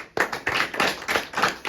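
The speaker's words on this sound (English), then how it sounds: "give him a round of applause for a high IQ" A short burst of clapping in a 5th grade math classroom, several quick uneven claps close by with no voices over them.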